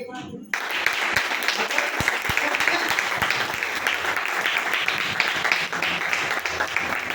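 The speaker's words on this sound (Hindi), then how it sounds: "कैसी तालियां मारेंगे?" After a brief quiet moment, loud crowd applause breaks out and continues steadily, with voices faintly mixed in.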